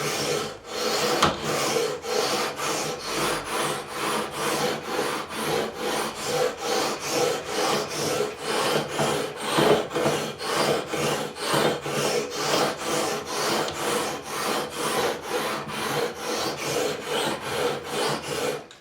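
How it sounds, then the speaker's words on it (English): Guitar frets being levelled with worn 240-grit sandpaper on a levelling beam: a steady, rhythmic run of close, raspy back-and-forth sanding strokes with no talking. "Levelling beam with well used sandpaper on there, 240 grit."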